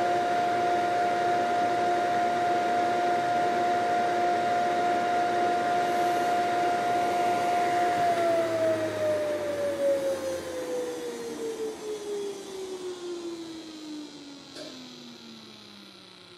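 A woodworking jointer runs with a steady high whine that holds, then slowly winds down in pitch as the machine coasts to a stop, with faint ticks near the end.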